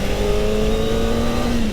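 A Kawasaki Ninja ZX-4RR pulls hard in first gear, its engine note climbing steadily in pitch over a short burst, loud and close with a strong intake howl and no voices.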